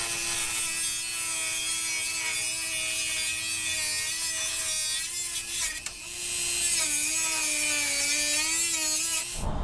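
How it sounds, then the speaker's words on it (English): A Dremel rotary tool with a plastic cutting blade cuts into a CBI hybrid bumper, giving a steady, loud high-pitched whine and grinding rasp that wavers slightly in pitch as the blade works, with no talking. "now I'm gonna use my Dremel tool with a plastic cutting blade"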